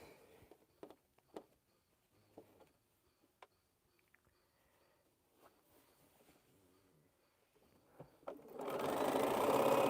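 A sewing machine stitches large quilt border pieces: quiet handling clicks and taps first, then the motor starts near the end with a loud, steady, close whirring run.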